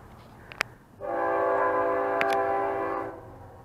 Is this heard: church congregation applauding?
no